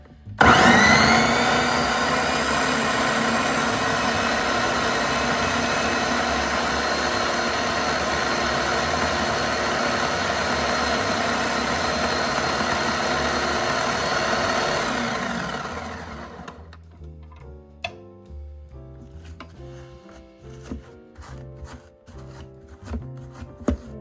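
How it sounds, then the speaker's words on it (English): An electric food chopper whirs steadily for about sixteen seconds as it chops Oreos for no-bake Christmas candy, then cuts off, leaving scattered light clicks and knocks. "I think you should start with the handy dandy food chopper."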